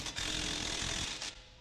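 Socket wrench ratcheting while tightening 22 mm bolts on a Toyota Prius front strut during a lift install, a close, steady run of rapid clicks lasting over a second before trailing off.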